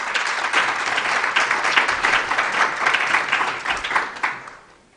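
A conference audience applauds after a research talk on electricity transmission, with dense, sustained clapping filling the room for several seconds before it trails off at the end.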